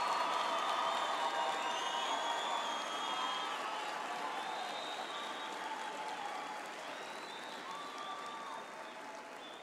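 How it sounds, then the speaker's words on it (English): Sustained applause from a large crowd at a university graduation ceremony, steady and even, gradually fading slightly toward the end. "let's give our graduates one more big hand of applause for their hard work and"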